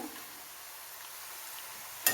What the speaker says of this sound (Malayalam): ഇഞ്ചി മാങ്ങ സംഭവം മുഴുവൻ ഇവിടെ വറുത്ത് കഴിഞ്ഞിട്ടുണ്ട്